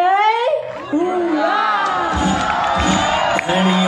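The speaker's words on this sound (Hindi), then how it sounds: "जोरदार तालियों के साथ" An audience at a live stage show in Rajkot, Gujarat cheers loudly, with shouts and whoops rising over a noisy crowd, some tonal calls sliding up and down, and voices mixed throughout.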